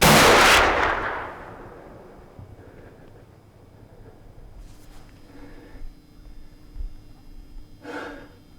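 A single loud rifle shot cracks out during an Iowa whitetail deer hunt, its boom rolling away outdoors, followed by quiet ambience with faint rustles and scattered distant noises.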